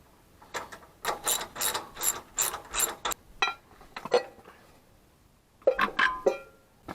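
Ratchet clicking as a spark plug is tightened back into a Gravely rear-engine rider tractor, with close, quick bursts of pawl clicks in several rhythmic runs separated by brief pauses.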